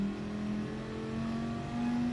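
A car engine in the Gran Turismo Sport racing game revs high and climbs steadily in pitch, loud and continuous with no talk over it.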